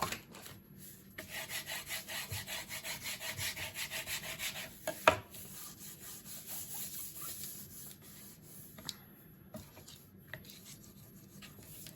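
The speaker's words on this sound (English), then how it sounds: "I just score it because I like to get it centered." A bone folder or scoring tool rubs and scores paper for an altered Little Golden Book folio, giving a steady rhythmic scraping for about five seconds, then a sharp snap and quieter intermittent rubbing and light taps close by.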